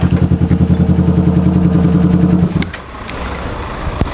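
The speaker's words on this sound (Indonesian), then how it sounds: "Naik motor ugal-ugalan banget sih." A close motorcycle engine putters in a loud, rapid, even rhythm, then cuts off abruptly about halfway through, leaving faint ambient noise.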